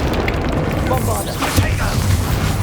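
A Bombarda spell explosion in Hogwarts Legacy gives a dense, loud, sustained boom with crackling debris over a rumbling low end, lasting the whole stretch with faint talk mixed in.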